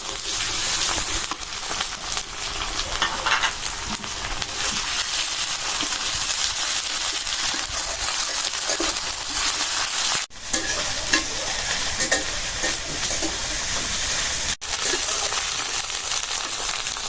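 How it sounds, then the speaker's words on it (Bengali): Ginger and garlic paste with cardamom and cinnamon frying in hot oil while being stirred, a steady close sizzle with crackle and scraping throughout, for a potato dish cooked with hilsa fish head. "আদা রসুনটা তেলে একটু ভাইজা নিলাম"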